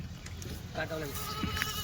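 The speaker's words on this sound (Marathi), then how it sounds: "मोठी शेळी या बघा" Kathiawadi goats at a livestock sale, a couple of short, faint bleats rising over a low background murmur.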